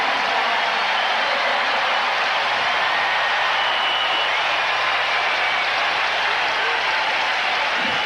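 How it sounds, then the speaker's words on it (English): Houston Oilers fans in a domed stadium during a 1981 football game against the Seattle Seahawks, a steady, distant roar of crowd cheering and applause sustained throughout without a break. "There is some cheering here by the Houston Oilers fans"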